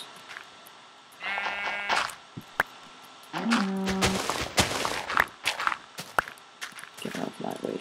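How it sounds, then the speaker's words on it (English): Sheep bleats from a Minecraft survival game, a harmonic bleat near the start and another around the middle, mixed with game effects and footstep-like clicks. "Get out of my way, sheep."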